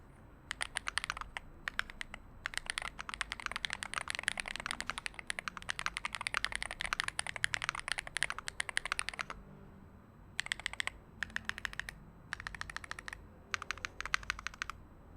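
Close, crisp typing on a Slice75 Hall effect mechanical keyboard: rapid bursts of clacky keystrokes with short pauses between runs, alone in a quiet room.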